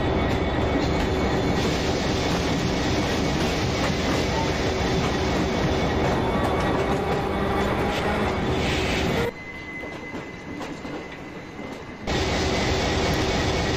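In the MSTS train simulator, a WDP4B diesel locomotive hauls the Darjeeling Mail on an Indian route, a loud continuous rumble and rail roar that dips briefly near the end before returning.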